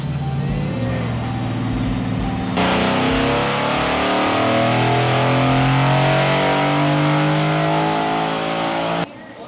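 A Mercedes C63 S engine being dyno tuned holds a high, steady rev with a loud, continuous exhaust roar and rising harmonic tones, then cuts off abruptly near the end.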